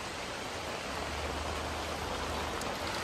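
Rain falls steadily over an urban village in Xi'an, a soft even hiss of drops with a faint low rumble beneath, continuous and uninterrupted.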